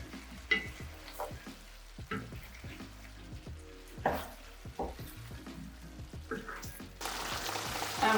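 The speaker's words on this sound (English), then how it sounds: "So now I'm just going to add the veggies. And just stir them in." Vegetables stirred into a sizzling chicken coconut curry in a pan: a steady fry hiss with scattered clinks and scrapes of a spoon, the sizzle swelling loud near the end, no voices.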